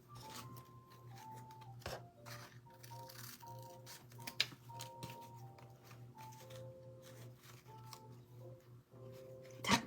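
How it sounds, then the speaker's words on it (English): Scissors snip repeatedly through a craft leaf in a quiet room, with soft crisp cuts and paper rustles over faint background music tones, close and fairly quiet. "I'm just gonna cut this leaf up"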